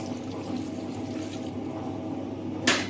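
Thin coconut milk pours in a steady, soft stream, ending with a brief louder splash near the end.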